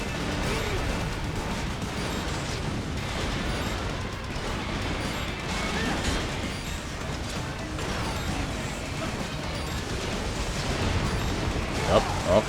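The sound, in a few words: explosions in video game Metal Gear Rising: Revengeance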